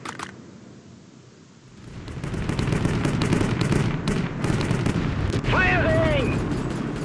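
Cannon fire in the World War II strategy game World War Armies, a quiet lead-in that swells into loud, sustained booming and battle rumble, with a brief shouted game voice partway through.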